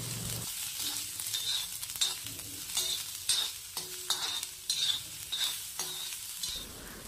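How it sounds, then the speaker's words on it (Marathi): Sliced onions frying in two to three spoons of oil on a griddle until golden, a continuous bright sizzle punctuated by regular scraping stirs roughly every second, close and fairly loud. "तर इथं कांदे आपण छान मस्त सोनेरी होईपर्यंत तळून घ्यायचे"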